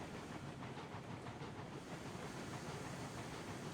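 Steady rumbling rail noise with hiss and faint rhythmic clatter from a double-header steam train pulling 25 cars in the game RAILROADS Online, a continuous, even drone throughout.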